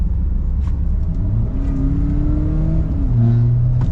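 A BMW F10 diesel engine revs up through an aftermarket Euro Arts exhaust, with a rising, throaty note climbing and falling in pitch, loud and close with no talking.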